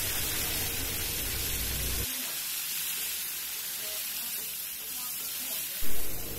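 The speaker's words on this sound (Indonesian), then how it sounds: "Nah, selanjutnya goreng untuk tomatnya ya." Tomatoes for sambal sizzle in a hot pan, with a steady hiss of frying throughout and a low rumble that drops away partway through.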